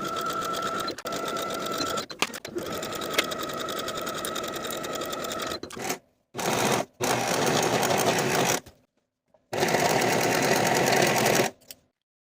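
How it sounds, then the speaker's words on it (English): A sewing machine runs steadily while sewing the side seams of a puff sleeve top, close and loud, in long continuous runs broken by a few short stops and brief bursts. "Sew the side seams with a 1/2 inch seam allowance, finish the raw edges"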